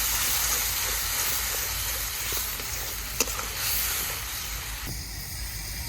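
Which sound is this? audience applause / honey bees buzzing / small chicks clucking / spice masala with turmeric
spice masala with turmeric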